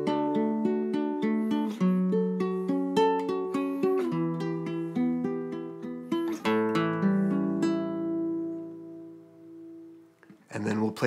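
Acoustic guitar strums an intro, with steady rhythmic chord strokes changing through a progression for about ten seconds, then a ringing final chord decays before a brief new strum at the end.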